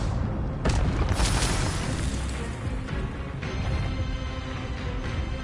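Spells such as Incendio and Expelliarmus cast in the video game Hogwarts Legacy. Heavy booming magical blasts and bursts follow one another in a loud, continuous barrage.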